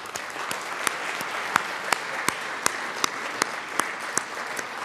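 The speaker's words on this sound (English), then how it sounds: "if y'all could give them a round of applause" Applause in the Colorado House chamber welcoming Cherry Creek high school speech and debate students, moderate clapping with a few sharp, loud individual claps standing out at a regular pulse over the crowd.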